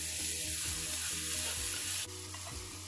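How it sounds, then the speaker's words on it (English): Golden onions with mushrooms frying in a pan for a beer patty Cajun burger, a continuous dense sizzle with soft, periodic stirring scrapes, close and even, with no talking. "We cook the onion in when it turned gold and we add mushrooms."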